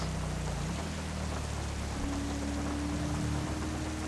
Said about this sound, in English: It's gonna be the world's quickest rain shower.